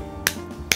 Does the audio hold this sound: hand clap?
yes